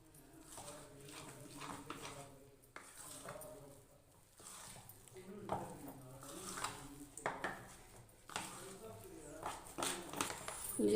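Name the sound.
mixing jaggery batter in a bowl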